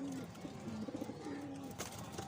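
A high flyer pigeon coos softly in a loft setup, a few low drawn-out coos with brief pulsing notes, faint and close against steady background noise.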